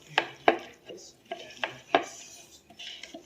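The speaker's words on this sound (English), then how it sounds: "So I'm going to stir in gradually because I don't want to lose any part of it." Wooden spoons stirring abacha in a dish, giving a handful of sharp knocks and scrapes against the bowl, spaced irregularly, close and fairly quiet.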